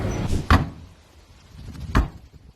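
A door being opened, with two distinct thuds or knocks about a second and a half apart and a soft rustle between them.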